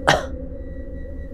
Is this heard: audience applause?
no